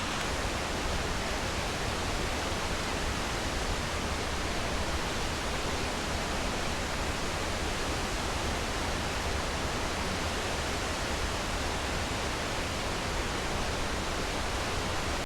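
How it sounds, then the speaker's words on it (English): Comet Falls on the Van Trump Trail pours down in a constant, dense roar of falling water, loud and near, unchanging for the whole stretch with nothing else standing out. "that's such a pretty waterfall"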